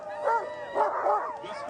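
Kuskokwim 300 sled dogs yip and bark at the race start, a few close, excited calls in quick bursts with a faint hum of activity behind them.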